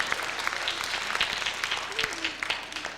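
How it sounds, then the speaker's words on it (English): Audience at a 2000 folk festival in Anchorage applauding, a dense, steady wash of many hands clapping at moderate distance throughout, with faint voices mixed in. "So give yourselves a round of applause."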